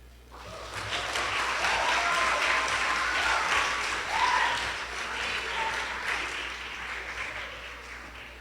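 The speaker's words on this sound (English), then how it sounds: "Can we just give him another round of applause?" A crowd applauding steadily after a live performance at a competition, a dense wash of clapping that swells and holds for several seconds before easing slightly.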